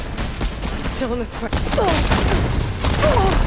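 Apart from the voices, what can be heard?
cannon firing in Horizon Forbidden West video game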